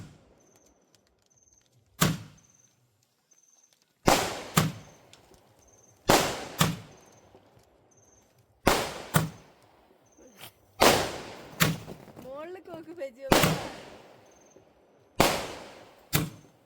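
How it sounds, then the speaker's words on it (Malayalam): Firecrackers set off from a room during a New Year celebration in Wayanad burst one after another, about ten sharp, loud bangs with echoing tails, spaced a second or two apart against near silence. "അത് കഴിഞ്ഞ് ഞങ്ങൾ റൂമിൽ നിന്ന് തന്നെ കുറച്ച് പടക്കങ്ങളൊക്കെ പൊട്ടിച്ചു"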